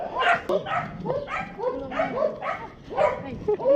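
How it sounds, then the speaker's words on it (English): Several dogs at a shelter in Huanchaco, Peru, bark and yip close by in a rapid, overlapping chorus with a few whimpers, continuing without pause. "Dogs everywhere."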